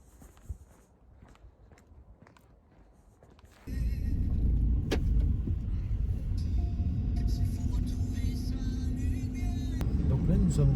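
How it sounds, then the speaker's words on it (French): A car drives to work in the early morning; after quiet rustling and light movements, the engine and road noise start up as a steady, fairly loud rumble with a few brief clicks. "nous sommes dans la voiture. En train d'aller au travail"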